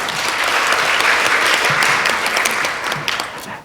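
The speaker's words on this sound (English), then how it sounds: "I'd invite us all to give them a round of applause" A conference audience gives panelists a round of applause after a session on private sector leadership in humanitarian crises, a full, even burst of many hands clapping that fades out near the end.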